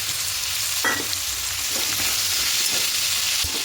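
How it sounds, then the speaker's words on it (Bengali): Potatoes frying with salt and turmeric in a pan, a dense steady sizzle up close, broken by a few scraping stirs and a brief clink of the spoon. "খুব ভালো করে একটু আলুগুলোকে ভেজে নেব"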